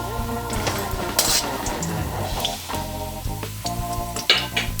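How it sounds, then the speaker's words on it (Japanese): Garlic frying slowly in a wok of oil over low heat for a garlic pork fried rice, a steady close sizzle with occasional clinks and scrapes of a utensil against the pan. "こいつを弱火でじっくり炒め、油にニンニクの香りをふんだんに移す。"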